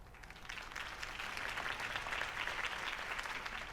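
A crowd in Batman: The Telltale Series video game cheers and claps after a campaign speech, a dense, sustained burst of applause that swells slightly and stays steady without speech.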